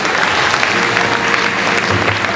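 Loud, sustained applause from a large crowd at a show jumping prize ceremony at the Longines Masters in Paris, a continuous dense wash of clapping filling the hall.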